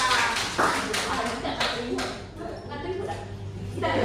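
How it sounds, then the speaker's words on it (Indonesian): A class of children clapping their hands in a classroom, in scattered uneven claps under a constant room hum, with voices talking over it. "Oke, tepuk tangan."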